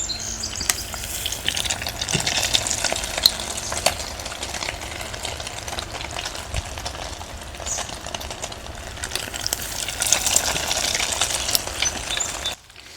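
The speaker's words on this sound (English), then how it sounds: "Now, you'll notice that the sound isn't that sizzling as it was before." Egg-coated pike fillets fry in a pan outdoors, giving a steady, fairly loud crackling sizzle with scattered pops throughout, no voices over it.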